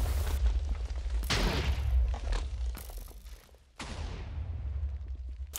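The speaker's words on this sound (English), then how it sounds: "So heavy cannon fire right here." Heavy cannon fire in a Minecraft tournament battle: several loud booming blasts in quick succession, each with a sharp onset and rumbling decay, close and powerful, with faint speech underneath.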